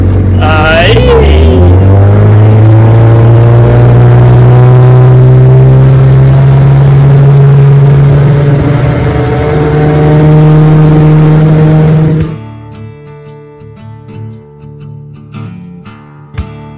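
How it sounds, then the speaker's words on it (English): A restored 1965 Johnson 9.5 HP outboard motor runs loud and steady on a bayou test, its engine tone rising as it revs, then cutting off abruptly near the end, leaving a few faint knocks and clatters. "Mississippi motor runs again."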